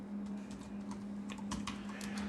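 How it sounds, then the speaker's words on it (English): Keys clatter on a computer keyboard in a short, quick run of close taps over a steady low electrical hum. "So we're just going to type in here adapter"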